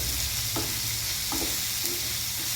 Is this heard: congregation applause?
no